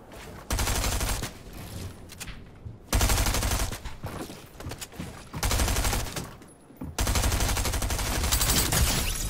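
Rapid SMG fire in Fortnite, loud and close, bursting in several long sustained strings separated by brief pauses.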